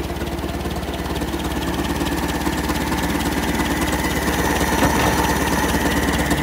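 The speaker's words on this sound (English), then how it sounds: "You hear that exhaust that's just cut off there," The engine of a Land Rover Series 1 runs steadily after a carburetor swap, a throaty, rhythmic idle with a constant low mechanical pulse and exhaust note, close and loud, no talking.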